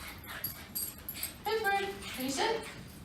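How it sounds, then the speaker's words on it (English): A one-year-old Cavalier King Charles spaniel whines in high, wavering cries during a training session, short yelps rising and falling over a few seconds, with faint human voices and rustling around. "You'll also hear some of that whining and that jumping behavior too."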